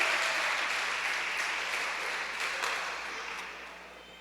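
A congregation applauds steadily, a dense wash of many hands clapping that slowly fades over several seconds.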